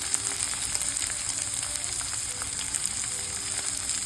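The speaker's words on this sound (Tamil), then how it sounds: "இந்த காஞ்ச ஆயிலில் நம்ம வெங்காயம் திருப்பி வச்சுருக்கிற வெங்காயம் போட்டுக்க போகிறோம்" Onion pieces dropped into hot oil for Mumbai-style pav bhaji, giving a steady, close, dense sizzle with fine crackling that holds evenly throughout, no voices.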